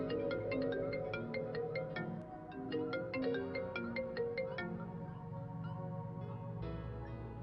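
A phone rings with an incoming call, a bright repeating electronic ringtone melody playing steadily and fairly loud for several seconds with no talking over it.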